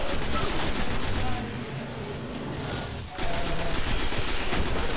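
Rapid, continuous gunfire from the video game Destiny, dense and loud throughout, with a brief dip in intensity midway before the volley resumes at full force.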